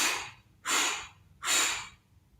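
Three strong breaths blown out in a row, as if blowing out a pretend birthday cake during a children's yoga breathing exercise, each a close, airy whoosh separated by short quiet pauses.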